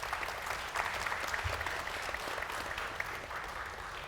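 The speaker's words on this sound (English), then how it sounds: "Give our panel a round of applause and welcome them." A room full of people clapping to welcome a discussion panel, a continuous, even burst of applause that stays steady for a few seconds with no voices breaking through.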